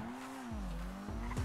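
A car in the GTA 5 video game accelerating hard with its tires squealing, a loud, sustained whine that rises and bends over a low engine drone.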